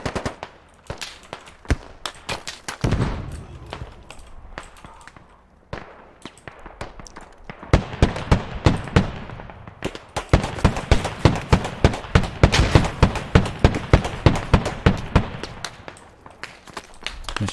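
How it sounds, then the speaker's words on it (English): Rapid gunfire in a military squad shooter game, dense bursts of automatic shots and single cracks rattling almost continuously, loud and close, with heavier volleys in the later half. "Shots coming from this fucking side."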